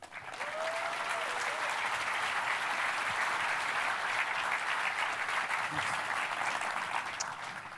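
A large audience at Startup School NY 2014 applauds to welcome investor Fred Wilson. The clapping is steady and sustained, fills about seven seconds and tapers slightly at the end, with no talk over it.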